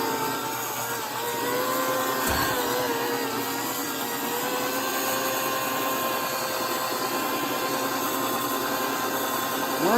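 A polisher runs steadily on a Buick quarter panel at its lowest speed setting, a continuous close whine with a brief dip partway through, and no voices.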